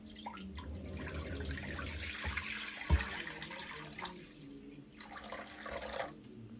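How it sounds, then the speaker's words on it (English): Steady running water pouring into a pot, a continuous rushing flow with a brief clunk partway through. "In a pot, go in with some water."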